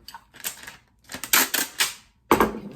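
Packing tape pulled off a roll and pressed down while sealing a shipping package, several quick crackling rips close up, the last one loudest.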